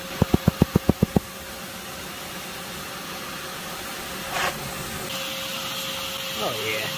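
A vacuum runs with a steady rushing hum while its nozzle sucks yellow jackets out of an underground nest. A quick series of sharp taps comes first, and a voice speaks over the noise.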